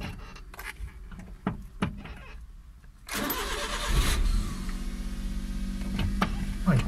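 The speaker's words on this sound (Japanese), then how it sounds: "で、エンジンかけて、まあ、ブレーキを踏みます。" A Suzuki Every 62V kei van's engine cranks and catches, then settles into a steady idle while the brake pedal is pressed after a brake pad change, preceded by a few quiet clicks and knocks.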